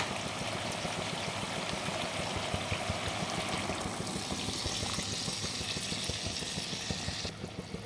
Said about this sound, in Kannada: ಅದಕ್ಕೆ ನೀರು ಸೇರಿಸ್ಕೊಳ್ಳಿ.